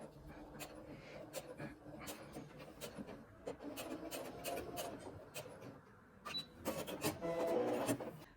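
Sewing machine back stitching at the end of a seam on a button-down shirt collar, a quiet steady mechanical whir with small clicks and rubs, louder bursts near the end.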